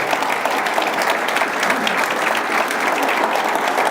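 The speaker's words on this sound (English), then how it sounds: "give them a round of applause because they do deserve it" A large audience claps warmly at a State of the City address, the dense applause loud and continuous throughout with no talking on top.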